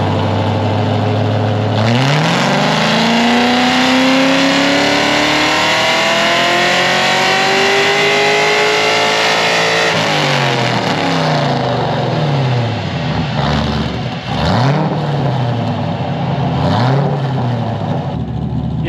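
A Pontiac GTO engine revs hard on a chassis dyno, climbing steadily in pitch for several seconds to a roaring peak, then falling and blipping through a few quick rev cycles, loud and close throughout.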